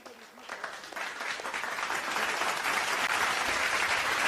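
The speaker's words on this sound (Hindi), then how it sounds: "साहित्य प्रेमी मंडल के लिए जोरदार तालियां।" Audience applause at a Hindi kavi sammelan poetry recital, steady clapping that builds and swells into loud, sustained applause from a crowd without a break.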